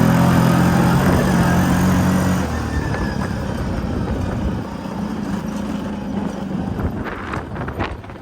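An ATV engine runs in the woods, a loud steady drone that drops lower after a couple of seconds and keeps churning, with rustling and clatter near the end.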